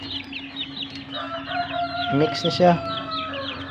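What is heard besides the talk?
heritage chickens clucking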